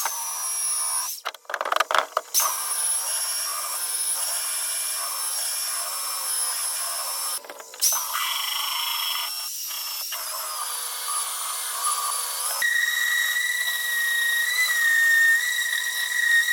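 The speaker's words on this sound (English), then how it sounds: "Focusing on trying to really sand down, get a nice flat base here" A high-pitched power sander whines steadily for a long stretch on turpentine timber, its pitch shifting slightly, with brief bursts of rougher grinding.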